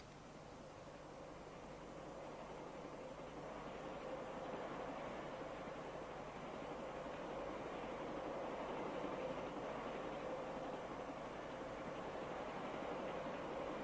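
A train rumbles along at a steady distance, a continuous broad roar that swells slightly and holds without letting up.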